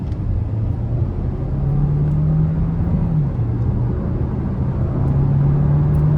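2022 Hyundai Tucson Hybrid SEL AWD with a 1.6-litre turbo engine, electric motors and a six-speed automatic, accelerating hard: a loud, steady engine drone whose pitch climbs, dips at a gear change and climbs again.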